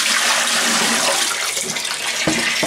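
Water pours out of a kettle after a descaling rinse in a loud, steady gush that stays close and continuous, with no speech.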